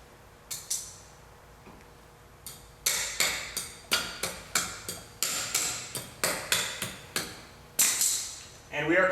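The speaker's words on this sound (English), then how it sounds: "We're going to go ahead and torque this one down. And we're going to install our cotter pin." Ratcheting clicks from a torque wrench tightening the hub nut on a 1998 Mitsubishi Mirage during a hub bearing job, then a cotter pin going in: a close, steady train of sharp metallic ticks in quick succession, with no talk.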